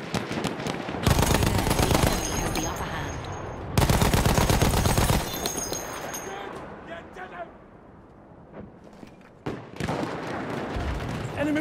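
Sustained machine gun fire rattles in Battlefield 1, with long loud bursts separated by brief pauses and short radio callouts.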